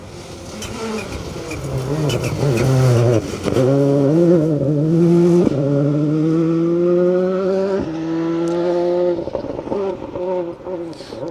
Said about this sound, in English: Still sounding just as good as ever. That fantastic WRC Ford Focus.